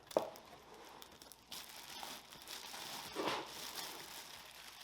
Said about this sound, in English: So let's open these TideWe waders,